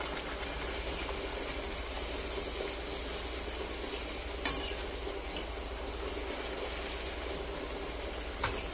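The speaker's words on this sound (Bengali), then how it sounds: "চলো লুচিগুলো ভেজে নিই" Luchi frying in hot oil, giving a steady close hiss and bubbling sizzle that holds throughout with one or two small clinks and no talk.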